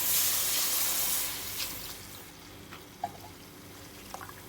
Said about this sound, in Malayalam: അതിലേക്ക് നമുക്ക് കപ്പിലെടുത്ത് വെച്ച രണ്ടാം പാല് ഒഴിച്ചു കൊടുക്കാം